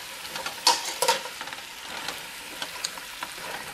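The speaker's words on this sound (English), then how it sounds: "We're going to let this saute here in these nice spices." Curry Kwanzaa stew sautéing in spices in a pot, with a soft continuous sizzle and a cluster of clinks and scrapes from a spoon stirring it, then quieter bubbling.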